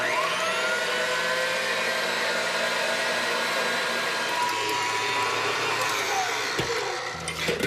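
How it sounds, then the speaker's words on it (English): An electric stand mixer whipping meringue at medium-high speed, a loud steady motor whir that runs continuously and dips slightly near the end. "I'm going to put it onto the electric mixer and put it on about a medium high for 5 minutes"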